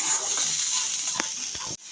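A tomato, ginger and green chilli paste fries in a kadai with a soft, hissing sizzle and a couple of stirring scrapes before it cuts off abruptly near the end.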